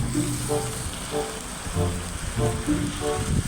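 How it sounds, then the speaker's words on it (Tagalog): Heavy rain pours down in a steady, loud wash, with a dense drumming hiss that stays close and constant throughout and no talking over it. "Lakas sa ulan no. Yan no. Sobrang lakas sa ulan."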